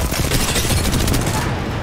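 Dense, continuous video game gunfire, overlapping rapid shots fired down from a rooftop, loud and close, with a voice partly under the shots.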